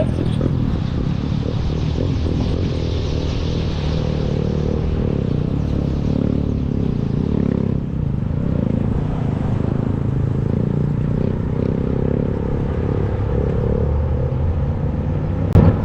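A motorbike ridden on a wheelie along a street in Kuwait, its engine a continuous low rumble heard from a moving cycle, steady and moderately loud with road and wind noise mixed in.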